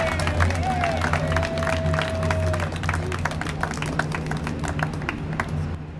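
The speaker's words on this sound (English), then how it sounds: "40 years of work deserves a big round of applause." An outdoor rally crowd at the state capitol claps and cheers in a steady wash of applause, fairly distant and continuous, with scattered voices and a few whistles mixed in before it begins to fade.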